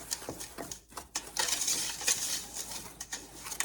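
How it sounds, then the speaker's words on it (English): Clear gel is whisked into water with unsweetened apple juice for apple pie filling, producing a steady, close rattle of whisk wires against the bowl with bright metallic clinks. "I'm gonna whisk this together so that the clear gel isn't clumpy."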